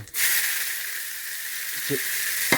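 Cumin seeds splutter in hot oil while cooking chicken tikka masala, a steady, loud hissing sizzle that starts abruptly and continues throughout, with a few faint pops and clicks near the end and no voices.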